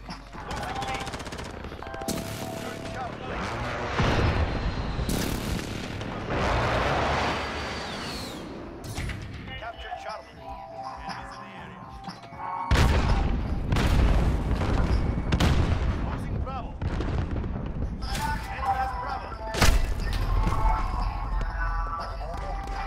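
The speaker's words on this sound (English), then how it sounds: "Allied precision airstrike incoming, beware" Allied precision airstrike in Call of Duty: Modern Warfare: repeated heavy explosions and booms erupt over steady gunfire and battle noise, with voices talking through the chaos.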